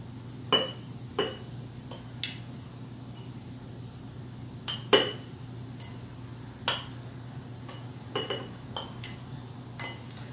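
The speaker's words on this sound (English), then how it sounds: "we're just going to use a mason jar here" Dried shallot powder being spooned into a glass mason jar, heard as scattered light clinks and taps of metal on glass at irregular intervals over a steady low hum, no talking.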